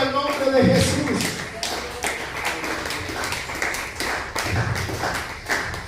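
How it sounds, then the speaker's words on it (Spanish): Church congregation claps in a loose rhythm of sharp, repeated hand strikes, with voices and shuffling mixed in around the clapping. "Aplauda el nombre de Jesús."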